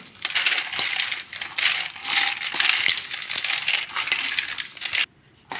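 Roasted peanuts rubbed between the hands to loosen their skins, making a steady close crunching, rustling rattle that carries without pause for several seconds before stopping abruptly.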